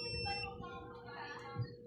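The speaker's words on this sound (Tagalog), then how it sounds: "dapat may buzzer tayo marinig" A Panasonic automatic washing machine's buzzer beeps faintly once the start button is pressed, a short tone sitting over low background hum in a quiet room.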